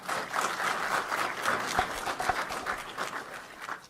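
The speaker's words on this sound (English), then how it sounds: "a round of applause for Sam while she gets set up" A modest round of applause from a conference audience at a tribal land law session, with scattered, uneven clapping that is fairly quiet and a few sharper individual claps standing out.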